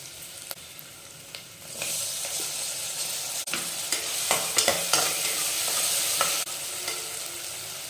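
Steady loud sizzling of tomatoes frying in hot oil, with occasional scraping and stirring clicks, no voices.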